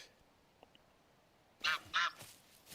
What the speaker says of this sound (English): Canadian geese, man.